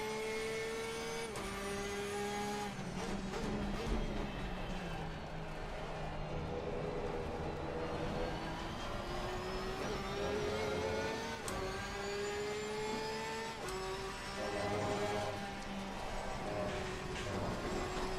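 GT race car in Assetto Corsa Competizione lapping the Nürburgring, a continuous engine drone rising and falling through gear changes with tyre and road noise underneath, steady and moderately loud, no talk.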